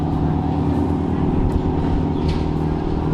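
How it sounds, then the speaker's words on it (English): Boats idling noisily just in front of the camera, a close, low droning motor rumble with a steady throb, continuous and unchanging over the few seconds. "all of a sudden the boats start being all noisy"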